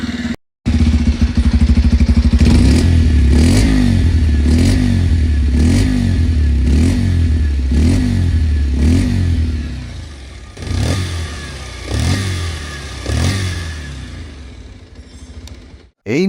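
A 2026 Bajaj Pulsar 125 LED motorcycle engine idles loud and close with a throbbing pulse, then is blipped through a series of rhythmic revs that rise and fall, ending in a short clatter as it settles.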